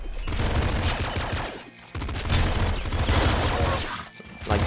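Loud, dense rapid weapon fire in the Nuclear Throne video game, crystals firing instant lasers amid a continuous barrage with a brief lull near the middle, sustained and close.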